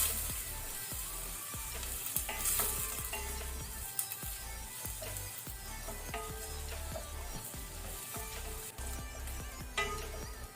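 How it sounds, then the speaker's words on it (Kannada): Onion, green chili and ginger frying in a pan for a prawn curry with raw mango, a steady close sizzle with frequent stirring scrapes and clicks throughout, no voices. "ಗ್ರೀನ್ ಚಿಲ್ಲಿ ಹಸಿಮೆಣಸು, ಜಿಂಜರ್ ಶುಂಠಿ ಇದನ್ನೆಲ್ಲ ಸೇರಿಸಿ ಲೈಟ್ ಬ್ರೌನ್ ಆಗೋ ತನಕ ಫ್ರೈ ಮಾಡಬೇಕು."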